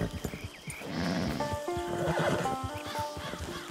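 A horse in the Red Dead Online video game whinnies loudly, with a long, wavering neigh rising over the rhythmic clop of hooves.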